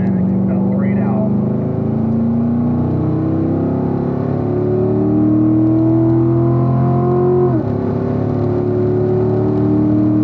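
A car engine revs and climbs in pitch as it accelerates out of a corner on a race track, with steady loud engine drone throughout and a voice talking over it.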